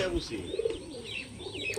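Domestic native pigeons coo low and throaty in a steady background, mixed with a few higher bird chirps, at moderate volume with no one talking.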